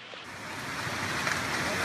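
Violent storm waves crash during severe weather in Taiwan, a loud continuous roar of surf and wind noise that builds steadily throughout.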